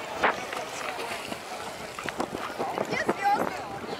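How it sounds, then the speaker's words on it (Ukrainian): Strong wind buffets the microphone with gusty rumbling while a person talks over it, water and boat noise faintly underneath, on a boat excursion to Saona Island in the Dominican Republic. "Блін, дуже сильний вітер, я не знаю, чи мене чути."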